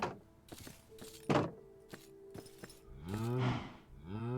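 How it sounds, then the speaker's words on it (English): Cows in a video game low and moo several times, with harmonic calls rising toward the end, mixed with soft thunks and clicks of in-game movement and no talking. "Cows."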